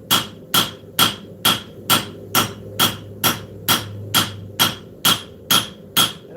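A hammer strikes steel on an anvil at an even pace, about a dozen sharp ringing blows in just over six seconds, close and loud, while a blade is forged into a distal taper.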